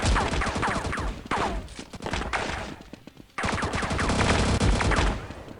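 Dense bursts of automatic gunfire in a CS 1.6 Valorant mod game, loud and close, with a brief pause before another sustained volley.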